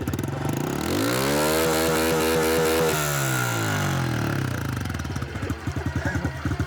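A motoball motorcycle engine revs up and back down with a smooth rising and falling whine, then drops into a close, loud, chugging idle.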